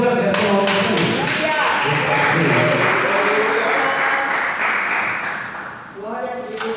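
Applause during a family church service: steady congregational clapping runs through the clip alongside raised voices and tonal, sung or musical sounds.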